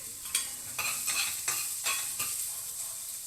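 Carrots stirred in a frying pan while cooking a vegetable masala bath, a soft continuous sizzle broken by about six scraping stirs of a utensil against the pan, close and fairly quiet.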